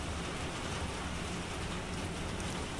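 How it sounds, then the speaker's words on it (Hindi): Light rain falls steadily on an early morning, a soft, even hiss of drops with no voices. "हल्की हल्की सी बारिश आ रही है"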